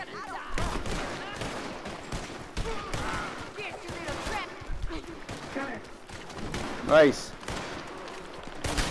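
Western-style gunshots ring out in Red Dead Redemption 2, several sharp cracks spread over a few seconds among game noise, with a person talking briefly.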